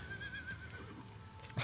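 A horse neighs in a tabletop-style fantasy adventure, its whinny rising and falling for about a second amid low background rumble, followed by a short sharp knock at the end.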